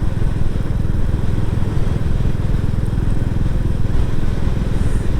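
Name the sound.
Royal Enfield Classic 350 single-cylinder motorcycle engine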